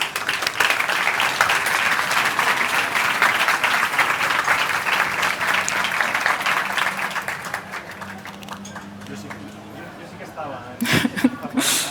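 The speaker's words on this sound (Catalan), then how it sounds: "un fort aplaudiment per ell" Loud, dense applause from a crowd at the inaugural event of the 40th Setmana del Llibre en Català, honouring the organising committee president; clapping fills most of the span, then fades as murmurs and a few voices come in near the end.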